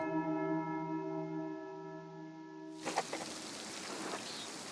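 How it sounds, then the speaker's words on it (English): Rain starting in the video game Pentiment, after a sustained organ-like tonal chord, a steady hiss of rainfall sweeps in abruptly and carries on with a few louder drops. "Uh-oh, it's raining."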